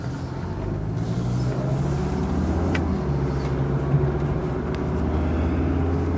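A 1987 Mercedes-Benz 190D 2.5 Turbo diesel driving, its steady engine drone and road rumble filling the cabin at an even level throughout, with no talk.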